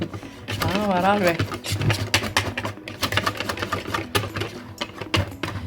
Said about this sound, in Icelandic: nú er ég bara búin að létt þeyta rjóman svona